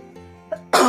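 A single sharp cough bursts out near the end, following a brief quiet hum and a small throat sound.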